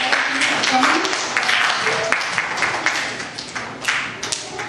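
Audience applause, a dense stretch of clapping that swells and fades, with some voices mixed in throughout.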